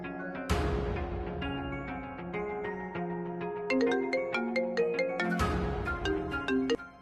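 A mobile phone's melodic ringtone plays through an unanswered call, bright chiming notes sounding loud and close. The tune runs through once and restarts about five seconds in, with no voices.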